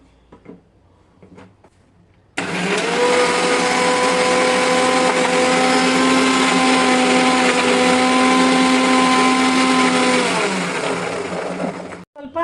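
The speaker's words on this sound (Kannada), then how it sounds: "ಈಗ ಮಿಕ್ಸರ್ ಮಾಡ್ಕೊ" A kitchen mixer grinder blends a neem and jaggery drink for Ugadi, starting abruptly and running as a loud, steady, close whir for about eight seconds before winding down, with faint background sounds before it starts.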